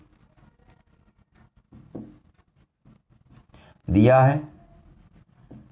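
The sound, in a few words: writing on a board while solving a circle theorem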